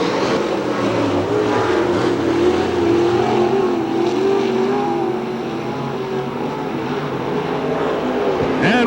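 Dirt track race cars battle for position at Hamilton County Speedway in Webster City, Iowa, their engines roaring loudly and continuously as they pass, with the drone shifting in pitch.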